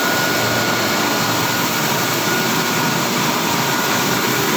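A Pelton turbine in a lab test rig gives off a loud, steady whirring roar, a dense broadband drone that stays constant throughout.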